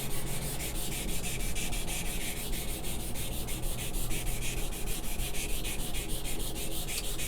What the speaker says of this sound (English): you could take sandpaper and kind of run it around this way.